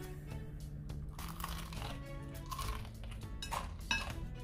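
Bites into super crispy home-made fried chicken give a few close, dry crunches and crackles, with light clinks of plates and cutlery in between and no talking.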